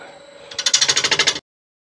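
A woodturning gouge facing off a bowl on a lathe, cutting in a quick run of about a dozen rhythmic, raspy scrapes close by. It follows a low hum and then stops abruptly.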